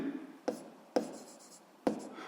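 A pen writes out a momentum equation for physics homework, making soft scratchy strokes close up, punctuated by three sharp taps as the tip meets the paper.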